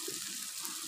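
Water is poured into a cooking pan of onions and tomatoes for palak gosht, giving a brief, soft, continuous splashing trickle.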